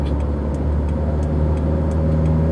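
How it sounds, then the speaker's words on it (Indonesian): A car cruising at about 90 km/h overtakes two white cars on a rural road, its steady engine and road roar continuous and close, with no voices. "mendahului dua buah mobil putih"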